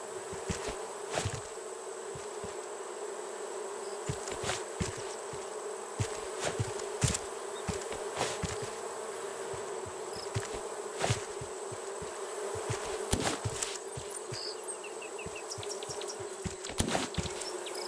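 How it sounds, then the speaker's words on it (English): Bees in the survival game Raft buzz in a continuous steady drone, with sharp clicks and taps scattered through it and no voices. "there are bees here"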